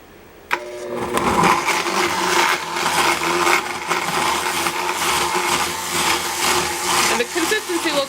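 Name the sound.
blender pureeing cooked pumpkin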